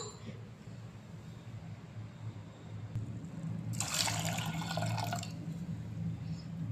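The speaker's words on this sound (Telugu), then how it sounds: "ఈ గ్లాసున్నర వాటర్ వేసుకోవాలి కరెక్ట్గాను" Water pours steadily into a pot of pigeon pea lentils (toor dal) for about a second and a half, a bright splashing gush over a low background hum.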